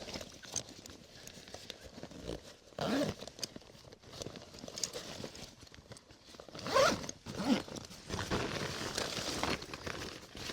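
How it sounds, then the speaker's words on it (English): A zipper pulled shut on a game meat bag holding moose front quarters during an archery hunt, a few quick rasping zips among rustling fabric and gear handling outdoors, close and moderately loud. "Zip up this bottom piece."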